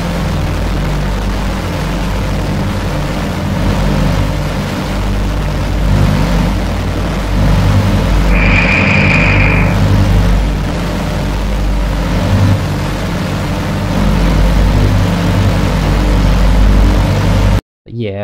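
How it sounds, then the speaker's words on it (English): Loud distorted synthesized drone patched in Pure Data for a Unity game, a dense sustained low buzz with a brief brighter tone rising partway through, cutting off abruptly at the end. "It just sounds like we're just kind of distorting the original drone"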